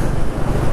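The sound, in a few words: wind blowing in desert village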